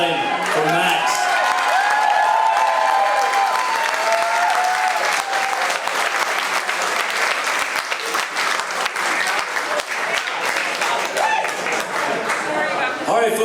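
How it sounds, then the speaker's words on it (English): An audience applauds a performer at a PechaKucha talk event, with dense, loud, sustained clapping from a crowd and some cheering, while a voice speaks over the start. "Let's hear it one more time for Max"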